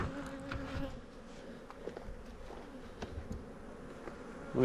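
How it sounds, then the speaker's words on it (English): Honey bees buzzing during a hive inspection, a steady close hum with a couple of sustained drone tones and scattered light taps and knocks, quiet and without talk. "let me put these bees back to their colony"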